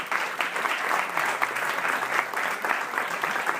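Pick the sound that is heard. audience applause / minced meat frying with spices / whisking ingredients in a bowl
audience applause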